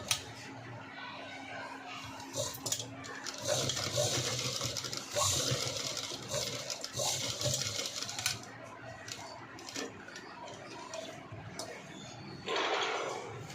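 A sewing machine runs in bursts while stitching the folded-back edge of a zip blouse, its rapid mechanical whirr rising and falling close by, with brief pauses and a faint steady hum between runs.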